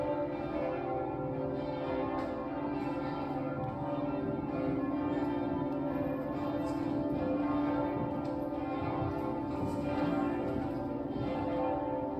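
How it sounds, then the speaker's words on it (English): Cathedral bells pealing at St. Etienne Cathedral in Tours, France, during a special ceremony, a dense, continuous ringing that holds steady and full throughout. "So the bells were ringing and there was a beautiful gospel choir."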